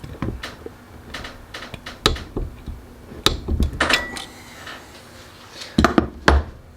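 A torque wrench clicks while tightening a 22 mm hex-head banjo bolt on the lower coolant line of a Mitsubishi Evo X turbo. Several sharp, close metallic clicks sound at irregular intervals over light tool clatter.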